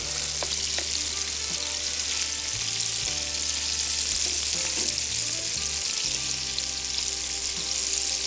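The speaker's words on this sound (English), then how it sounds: "You got to check these pieces, turn them over, because they'll be laying on the bottom of the pan and you don't want them to burn." Pieces of bass fish fry in a pan, giving a steady, close, continuous sizzle and crackle with faint clinks of stirring and turning, and no talk.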